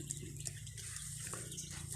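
Chickens cluck softly while waiting to be fed, faint and somewhat distant over a steady low background hum, with no talking.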